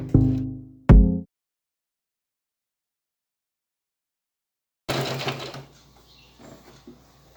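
Sewing machine stitching bias binding onto a small hat: one short burst and a quick second burst, a long silence, then a softer run of stitching with light handling noise.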